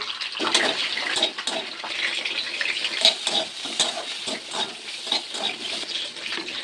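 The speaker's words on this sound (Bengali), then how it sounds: "কেটে রাখা পেঁয়াজটাও দিয়ে দিলাম, দিয়ে একটু ভালো করে নাড়াচাড়া করে নেব" Onion and spices being stirred in a frying pan for a Bengali shrimp and greens curry, giving a steady, close wet sizzle with repeated scraping stir strokes throughout and no voices.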